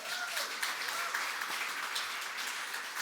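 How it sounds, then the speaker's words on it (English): Audience applause at a panel discussion, a steady wash of clapping held at an even level for about three seconds with no voices over it. "that's worth a round of applause"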